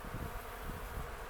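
Dense, steady buzzing of many honeybees close by at an open hive, a continuous droning hum without pauses.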